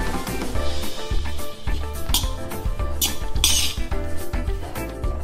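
A spoon mixing grated ingredients and salt together in a bowl for a sesame bread toast and paneer tikka sandwich: repeated close clinks and scrapes of metal against the bowl in an uneven stirring rhythm, with no talking.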